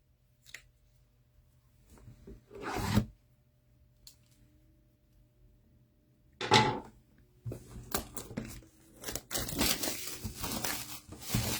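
Scissors cut open a sports trading card pack: scattered crinkling and crushing bursts of foil wrapper, a few sharp isolated snips early on, then a denser run of rustling and cutting noises toward the end, close up with no speech.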